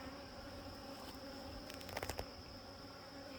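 A continuous hum of honey bees hovers over an open hive during tending, joined by a quick cluster of sharp clicks and knocks from hive tools near the middle, with no speech.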